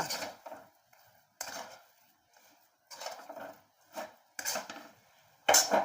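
A spoon stirs semolina dough mixed with oil in a pan or bowl, producing a series of separate scraping and clinking strokes with quiet gaps between them, close and moderately soft.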